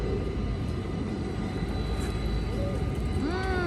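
A train rumbles past close by a market street, a steady loud roar with rising whining tones near the end, while a voice speaks over it.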